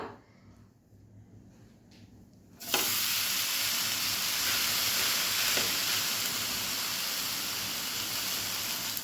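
Thalipeeth flatbread batter lands on a hot griddle and a loud, steady sizzle starts suddenly, continuing evenly after a quiet opening.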